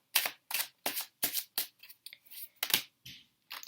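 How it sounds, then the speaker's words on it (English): Tarot cards shuffled by hand at close range, about a dozen crisp papery riffles and slaps in a fairly even rhythm, each short and sharp, with small gaps between them and no talking. "I usually shuffle them, and then I cut the deck and take 3 cards"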